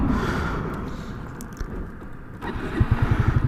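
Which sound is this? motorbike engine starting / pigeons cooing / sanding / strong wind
motorbike engine starting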